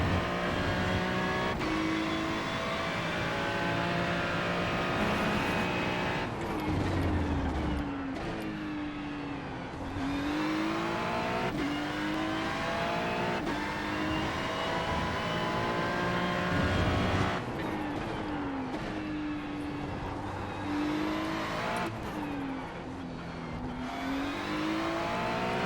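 Ferrari 296 race car in iRacing, engine revving up and down through gear shifts with brief drops on braking, loud and continuous throughout.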